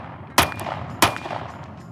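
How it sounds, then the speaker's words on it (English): Two sharp, loud gunshots from a Sig Sauer P365 Macro pistol with a compensator, fired about half a second apart, each trailing off into a short echo. "it's just really fun shooting this thing"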